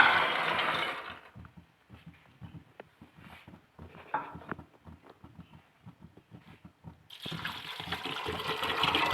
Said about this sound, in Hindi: एक लीटर के करीब इसमें हम पानी डालेंगे